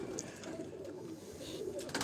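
Pigeons at a rooftop loft in Lahore give soft, low, throaty coos against a faint background of ambient noise.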